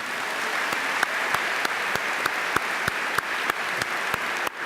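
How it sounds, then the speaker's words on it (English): Staff at a 2019 Nashua School District all-staff meeting applaud young concert choir students: steady, dense clapping with sharp individual claps standing out, sustained and fairly close throughout, with no talking. "give these young students a round of applause for being here."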